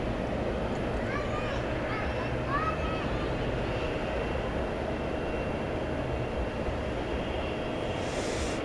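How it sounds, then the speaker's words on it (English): A Boeing 737 MAX 8 airliner takes off at night at DFW Airport, bound for San Diego: a steady, even broadband roar holds at constant strength throughout, with faint voices in the background. "So here goes the MAX 8 to San Diego."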